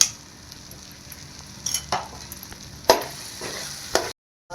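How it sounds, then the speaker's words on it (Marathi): Sesame and peanut paste is sautéed in oil in a pan, giving a steady soft sizzle broken by a few sharp scraping stirs of a spoon against the pan, close and without speech. "आपण जे तिळाचं शेंगदाण्याचं वाटण केलं ते टाकूया आणि त्यालाही तेल सुटेपर्यंत परतून घेऊ"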